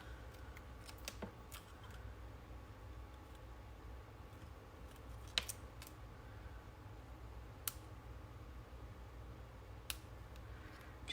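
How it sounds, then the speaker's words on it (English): Scissors cutting out small paper flowers for a card: faint, sparse snips and clicks spaced irregularly over a low steady hum, with no talking. "So I'm just going to cut them out."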